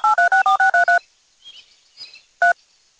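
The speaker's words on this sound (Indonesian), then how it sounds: "Coba aku telepon dulu." A telephone number is dialed as a rapid run of eight loud, evenly spaced touch-tone beeps, followed by faint line noise and one more tone.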